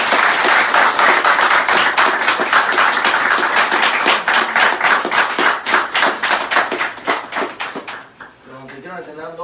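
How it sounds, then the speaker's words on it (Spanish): An audience at a Cuban gathering in Orlando claps in a loud, fairly rhythmic burst of applause for several seconds, gradually fading before a voice begins speaking near the end. "Así que vamos a un aplauso."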